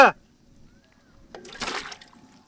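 Chopped ram mutton tipped into water, a brief splashing slosh about a second long after a quiet stretch, close by, with a voice speaking at the very start.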